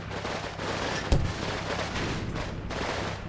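Mortar fire in Combat Mission: Red Thunder: one sharp, heavy report stands out against a steady, distant rumble of battle and scattered shots.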